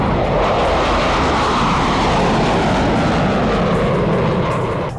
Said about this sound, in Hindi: आसमान में गरजते लड़ाकू हेलीकॉप्टर, लड़ाकू विमानों के शोर से थर्राते पहाड़,